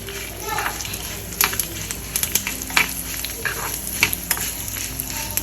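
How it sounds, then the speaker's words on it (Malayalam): Mustard and fenugreek seeds frying in hot oil with curry leaves, a steady sizzle broken by small pops and crackles, close by and fairly loud, with a few faint spoken sounds. "കടുക് പൊട്ടിക്കഴിഞ്ഞാൽ ഉലുവയും ഇതും ഇട്ടു."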